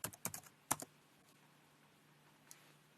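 Keys on a computer keyboard click in a quick cluster of taps at the start, then stop, with one last faint tap later over quiet room tone.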